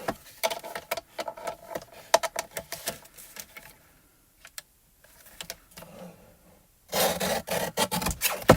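A paper card's edge is trimmed with rapid rasping cutting strokes in irregular bursts, close and moderately loud, with a brief pause before a louder final run of scraping.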